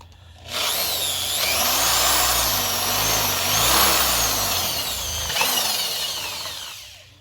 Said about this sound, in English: we're gonna drill another hole on top of it